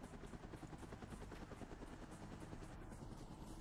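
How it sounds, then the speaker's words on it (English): Helicopter in the video game SOS, heard as a steady rapid rotor chop that pulses faintly and evenly throughout, with no voices over it. "I see the helicopter."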